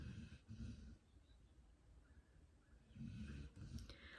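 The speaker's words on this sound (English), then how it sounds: "They're snoring." Soft, low snoring in two slow breaths, quiet and close, with a faint steady hum in the background.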